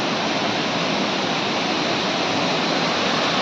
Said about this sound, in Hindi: एटा भाई चाटीकोणा वाटरफॉल